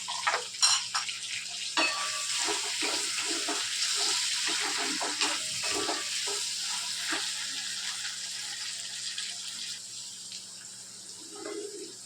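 Potatoes fry in a pan with a soft steady sizzle, broken by bursts of scraping and clinking as they are stirred, then settling into quieter frying near the end.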